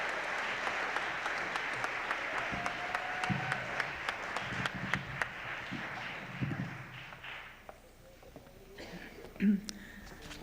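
An audience at an arts and humanities awards ceremony applauds after a final musical performance. Dense, steady clapping fills the room and thins out toward the end, with a few voices heard under it.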